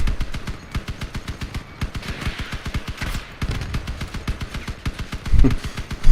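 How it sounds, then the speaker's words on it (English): Rapid, sharp repeated weapon fire from a vehicle combat battle in the game Crossout, a fast continuous volley of loud bursts with a heavier thump near the end. "Don't want to get caught by his cannon fire."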